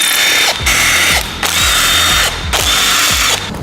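A power tool backs out screws from a water-damaged Porsche Macan, loud whirring bursts with ratcheting clicks, three long runs separated by short pauses, close up with no talking.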